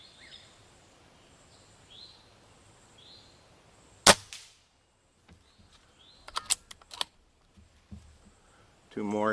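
A Gamo Urban unregulated air rifle fires one sharp crack, then a few quieter clicks and snaps follow from handling and reloading. A final loud burst comes at the end, and faint bird calls and a voice sit in the background.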